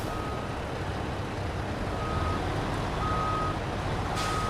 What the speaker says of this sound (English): I'm hearing reversing beeps.